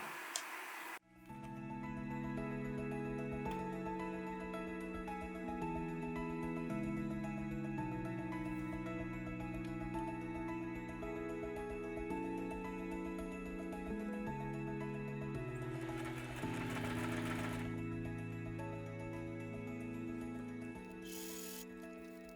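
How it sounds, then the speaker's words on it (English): A sewing machine stitching X-Pac and ROBIC nylon fabric for an ultralight daypack, a steady mechanical whir whose pitch steps up and down with speed, running continuously and close after a short start. "so I'm just going to sew this together"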